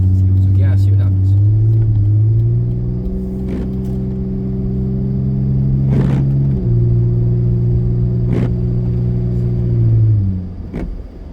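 Rear-wheel drive car in heavy snow, its engine revving up through several stepped pitch changes as it accelerates, loud and close, with a voice talking intermittently over it.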